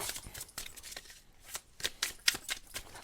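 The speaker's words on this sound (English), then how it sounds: "Nothing shuffles like a new deck." A brand-new tarot deck being shuffled by hand, giving several quick bursts of crisp riffling card flutter with short pauses between them, fairly close and moderately loud, with no talking.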